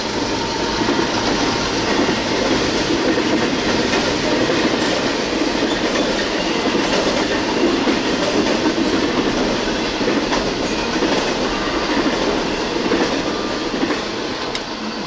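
CSX I-009 freight train rolls past close by, its steady roar of wheels on rails carrying faint clickety-clack and occasional squeals, continuous and loud throughout with no voices.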